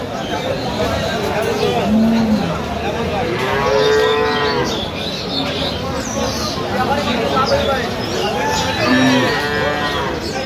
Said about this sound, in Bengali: এখানে বেশ সুন্দর একটি গাভী বাছুর দেখছেন